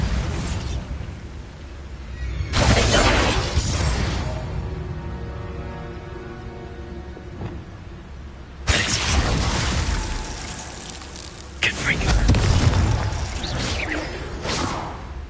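Bombarda blasting spell in the Hogwarts Legacy video game: several loud, roaring explosions with whooshing, debris-filled tails, separated by quieter rumbling stretches.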